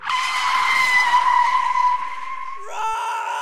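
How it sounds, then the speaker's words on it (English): A long, loud tire screech from a car skidding to a halt, then a brief shift to a higher squealing tone at the end. "Causing the taxi to stop suddenly."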